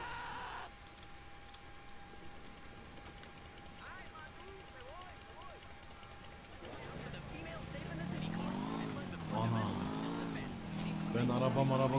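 Motorcycle engine in the video game GTA IV revving and surging over game ambience, rising and falling in pitch several times and growing louder toward the end, with a voice talking over parts of it.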